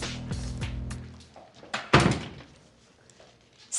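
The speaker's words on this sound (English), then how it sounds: "Close the door." A door swings shut indoors with a single solid thunk near the middle, preceded by some shuffling and low background noise; no one speaks.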